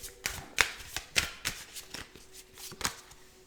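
Tarot cards shuffled by hand during a reading, a close, steady series of crisp riffling snaps and soft slides in an irregular rhythm, with no voice.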